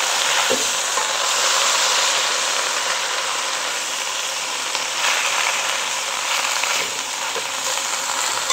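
Leafy greens fry in a pan, giving a steady, loud, close sizzle with faint stirring scrapes and no talk.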